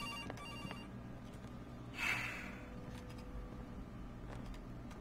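A telephone rings in the horror video game Case: Animatronics. The ringing is a thin, tonal ring that rises into one bright burst near the middle, heard over a low, steady game hum with no talking.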